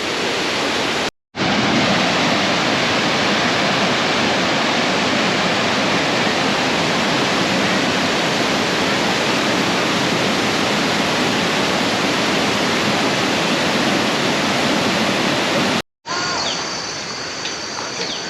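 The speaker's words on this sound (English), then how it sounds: "Really beautiful behind me there, that waterfall." Mae Ya waterfall roars as a dense, steady wash of falling water, loud and close and unbroken apart from two brief cuts, with no clear splashing from people standing out.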